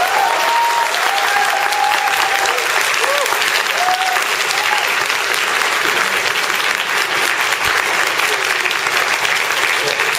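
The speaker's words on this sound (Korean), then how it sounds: "이재명 대표님께 다시 한번 큰 박수 부탁드립니다" Loud, dense applause from a crowd at a political rally in South Korea, sustained evenly for about ten seconds.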